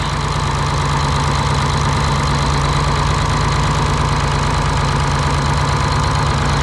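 A Brockway truck's 671 diesel engine runs loud and close, a steady, rough mechanical roar with knocking texture and no clear rise or fall in pitch.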